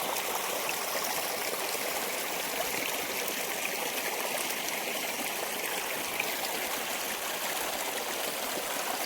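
Steady, continuous rush of a stream flowing near a waterfall, close and fairly loud, a broad even hiss of water with no pauses.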